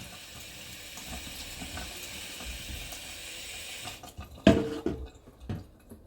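Hot water runs from a tap into a bowl in a steady hissing stream that cuts off near the end, followed by a few close clinks and handling knocks.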